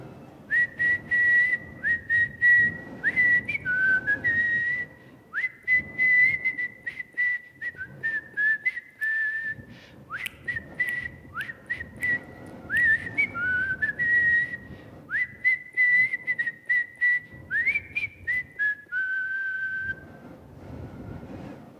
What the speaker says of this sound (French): il siffle un petit air entraînant